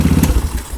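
Honda Ruckus scooter engine running loud and close just after startup, a fast steady putter of small-engine firing with slight clatter.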